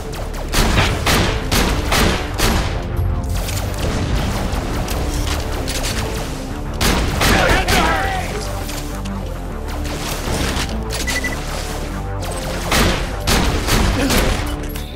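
Gunfire in the video game Borderlands: The Pre-Sequel, dense loud volleys of rapid shots and booming impacts running continuously with layered game effects, no clear talk.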